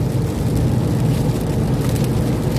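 Rain falls on a road beside rice fields in Roi Et, Thailand, making a dense, steady, loud hiss with a low rumble. It continues without a break throughout.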